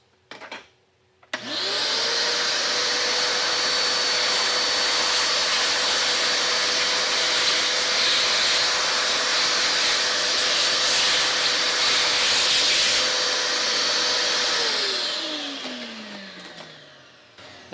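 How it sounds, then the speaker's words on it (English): A vacuum cleaner sucks up drilling debris from a Motorola 6m repeater build. Its motor starts after a couple of clicks, drones loud and steady for about thirteen seconds, then winds down. "Vacuum cleaner and suck it up."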